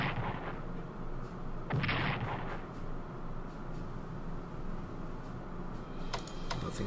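Bombing raid effects in the Strategic Command WWII strategy game: a steady rumble of distant bombardment with a louder burst of blasts near the middle and scattered sharp clicks toward the end.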